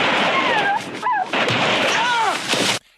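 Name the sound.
gunshots and dogs yelping in the film First Blood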